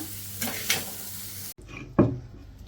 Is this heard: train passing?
no